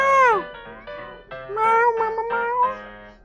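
A cat meows several times up close, a long drawn-out cry followed by a run of shorter, wavering meows.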